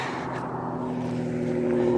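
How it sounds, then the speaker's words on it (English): A loud car rushes past on a street during a morning walk, a steady broadband roar that swells over two seconds, heard alone without talk. "And there's a car coming again. That was loud."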